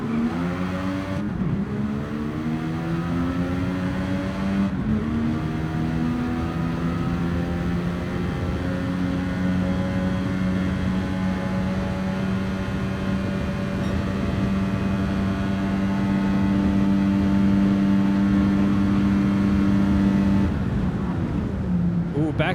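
Race car engines lapping Mount Panorama in a racing video game, a sustained droning engine note rising slowly in pitch as the car accelerates, heard steadily throughout beneath a commentator talking.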